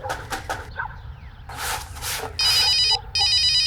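Telephone ringing in a Bengali crime drama scene, two loud electronic ring bursts close by after some clatter and ambient noise.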